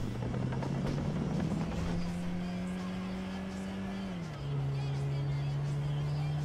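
A helicopter in the video game GTA 5, a steady droning engine tone that rises slightly, then drops in pitch near the end, holding constant and fairly loud with no talk over it.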